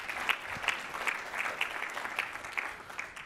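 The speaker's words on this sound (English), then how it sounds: "He hasn't had a round of applause yet" A conference audience claps for the event's MC, a steady round of moderate applause with a few sharper individual claps standing out throughout.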